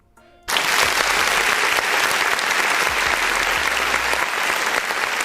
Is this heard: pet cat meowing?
no